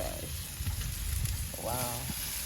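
Oxtail sizzles on a hot grill as the pieces are turned over, a steady close crackling hiss running throughout, with a brief voice speaking partway through.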